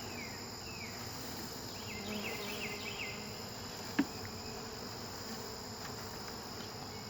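Honeybees shaken from a package into a new hive produce a steady, dense buzzing swarm close by, with one brief knock partway through and no talk.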